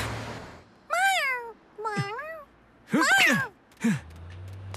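Cartoon kitten meowing in a children's animated show, four distinct high, tonal meows spaced over a few seconds, fairly close and clear with a faint background hum between them.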